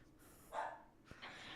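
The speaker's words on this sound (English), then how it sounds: "I think another dog's outside, and they're also barking. So my dog is going to start barking even more." A pet dog barks indoors, a short sharp bark or two with soft breathing and whimpering between, fairly quiet and close, with another dog outside.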